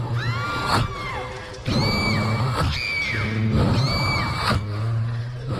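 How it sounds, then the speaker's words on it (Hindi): Dramatized woman screaming in pain, repeated wailing cries with sharp bangs between them, loud and close over a busy effects bed in a Hindi horror audio story. "दर्द के मारे कलीथा जमीन पर बैठकर चिल्लाने लगी।"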